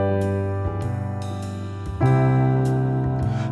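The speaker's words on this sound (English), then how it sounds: "So level 1, it's just using straight triads." Piano chords moving through a 2-5-1 progression in plain triads, sustained and struck in a steady sequence over a backing track, with no voices.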